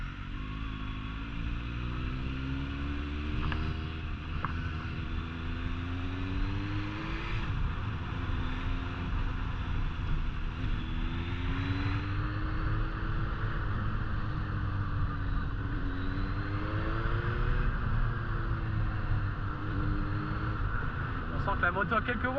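Suzuki GSX-S 750 motorcycle engine humming steadily while riding, its pitch rising and falling with gear changes and throttle, with someone talking over it throughout.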